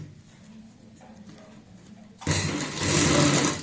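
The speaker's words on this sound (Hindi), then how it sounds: "ऐसे करते हुए ऊपर से सिलाई लगाएंगे ताकि ये अच्छे से सेट हो जाए" A sewing machine topstitches a folded edge on a party frock for a 10 to 12 year old girl, staying quiet for the first two seconds before starting abruptly and running loud and continuous to the end.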